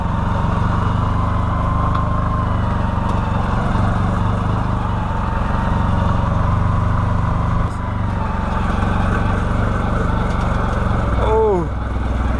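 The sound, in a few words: 2013 Can-Am Maverick engine driving up a hill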